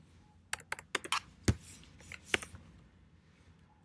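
Close keystrokes on a computer keyboard while code is entered, a quick irregular run of sharp clicks followed by a few scattered taps, fading into quiet.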